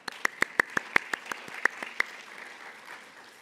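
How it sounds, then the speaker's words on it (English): An audience at a lecture-series event claps for the program's supporters, a dozen or so distinct, crisp hand claps spaced about evenly before the applause fades out. "We can clap it up for them."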